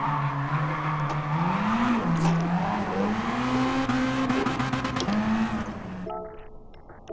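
Car engine in Gran Turismo Sport held in second gear with a feathered throttle, a steady droning tone that wavers in pitch, tires scrubbing beneath, loud and continuous before fading near the end.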